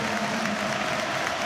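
A stadium crowd applauds at a Feyenoord versus Ajax Eredivisie football match, a dense, loud, continuous wash of clapping and crowd noise.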